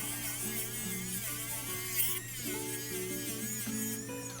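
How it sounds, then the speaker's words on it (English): Dremel rotary tool rounding off the points of a sterling silver pendant, a steady close buzzing whine held for several seconds with slight shifts in pitch. "so I'm going to take my Dremel, or you could take a file,"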